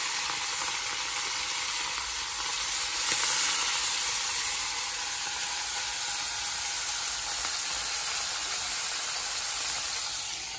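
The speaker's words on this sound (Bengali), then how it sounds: "এখন তেল গরম হয়ে গেছে, এবার মাছগুলো দিয়ে দেবো।" Khoyra fish frying in hot oil gives a loud, steady sizzle and hiss that swells briefly near the start as the fish hits the oil, then continues evenly with no voices.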